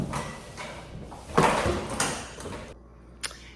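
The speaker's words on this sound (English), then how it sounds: "let me put the camera down so I can show you how to open the door" An apartment laundry room door opening, with a soft rolling slide and a solid knock partway through, then quiet and one small later click.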